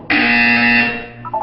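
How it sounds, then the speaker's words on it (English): Loud, raspy electronic buzzer from the Portal 2 video game, a single sustained blast close up that fades out, followed by a couple of faint short tones. "You will hear a buzzer."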